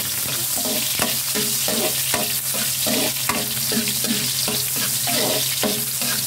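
Garlic and onion sizzle steadily in a hot pan for kaldereta, with a utensil stirring and scraping in a regular rhythm, close and continuous with no talk.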